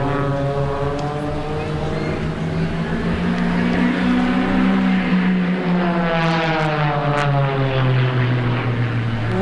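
Propeller aircraft flying along the show line in line astern formation at an air show, a loud steady drone with shifting engine tones that swells and bends as the planes pass, continuous throughout.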